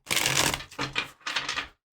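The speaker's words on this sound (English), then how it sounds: "Ooh, what kind of shuffle was that?" A deck of tarot cards is shuffled up close in three quick, papery riffling bursts with short gaps between them, ending in silence.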